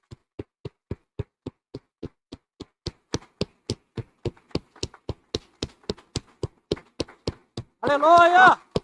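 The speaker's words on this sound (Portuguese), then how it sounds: "Você pode dar uma linda salva de palmas, Senhor, em nome de Jesus?" A church congregation claps in a steady, evenly spaced rhythm, the single claps growing slightly louder, before a burst of cheering and voices at the end.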